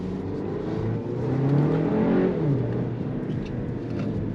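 A Volkswagen Tiguan's four-cylinder engine revs steadily, its drone rising and falling as it accelerates, heard from inside the vehicle.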